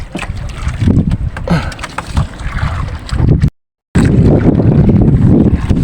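A small fishing boat's Sumo 7.5 engine rumbles low and steady over wind buffeting the microphone and water noise, loud and close, with a short gap midway.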